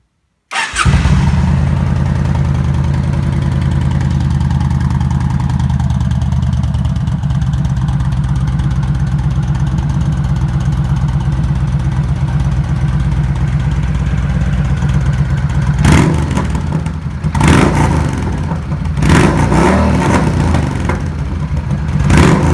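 A 2007 Yamaha XVS 1300 V Star Deluxe cruiser starts up and idles with a loud, close, steady exhaust rumble, then gets several sharp throttle revs toward the end, without any talk.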